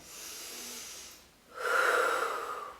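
Two audible breaths through the nose during a workout stretch: a softer airy inhale, a brief pause, then a louder, hissing exhale, close to the microphone with no talking.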